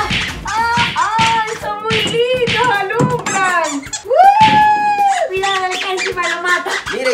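Squeaks from a toy bone for puppies sound repeatedly and loudly up close, mixed with excited, overlapping talk and some handling noise.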